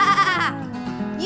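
A voice imitates a sheep's bleat, a wavering 'baa' sung close and clear, the sound of a person mimicking the animal for children rather than a real sheep.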